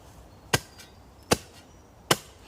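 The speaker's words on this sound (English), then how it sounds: "You can hear the rocks there, grinding down there." A long-handled spade striking stony, hard-packed ground: three sharp, evenly spaced chopping impacts with gritty scrape, fairly close and alone, with no voices.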